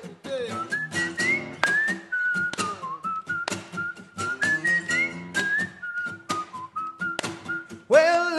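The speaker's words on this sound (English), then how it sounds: "Give me a whistle for it." A person whistles a lively, bouncy tune alone, clear and close, with quick rhythmic notes throughout.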